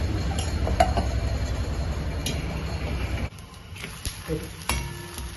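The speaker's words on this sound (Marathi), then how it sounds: "पण आपण थोडंसं तूप टाकूया आणि परतवूया" Fasting-style bhajani thalipeeth sizzles in a pan on medium heat after a little ghee is added, with a busy frying crackle, then a quieter stretch broken by spatula clinks against the pan.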